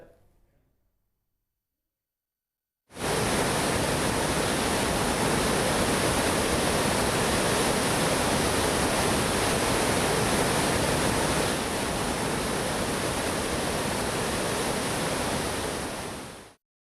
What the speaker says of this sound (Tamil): அதிரப்பள்ளி நீர்வீழ்ச்சியில் தண்ணீர் ஆர்ப்பரித்து கொட்டுகிறது